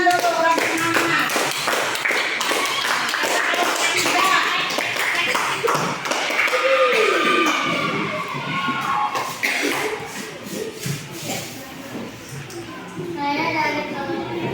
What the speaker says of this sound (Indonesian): Tepuk tangan dulu orang semangat.